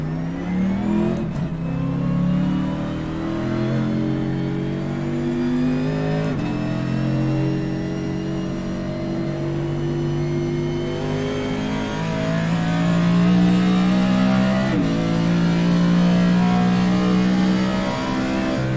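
Race car on track with a 1000 pound spring setup, engine revving up and down through a corner in rising and falling sweeps, loud and close, with gear-change dips.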